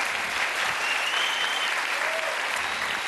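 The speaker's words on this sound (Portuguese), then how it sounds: "Palmas pro Danilo." Studio audience on a Brazilian TV talk show applauds a correct answer in a fish-naming quiz, steady dense clapping throughout, no speech.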